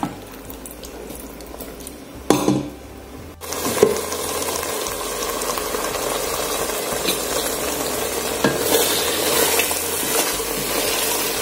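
Vegetables for homemade broth simmer and bubble steadily in a pot, a soft, continuous hiss after a brief clatter of stirring near the start, heard close with no talking.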